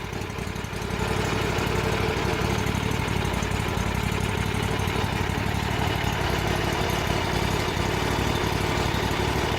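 A boat engine idles steadily and loudly nearby, a constant low rumble with a rapid mechanical rattle running through it.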